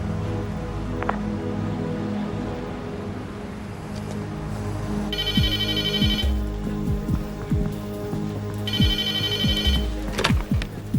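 A mobile phone rings in two bursts of a bright electronic ringtone, loud and close, over a low engine-like rumble and clunks from movement, with no talk.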